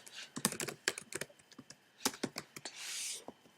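Typing on a computer keyboard in a spreadsheet: a quick, irregular run of close key clicks, a short pause, a few more taps, then a softer rushing sound at the end.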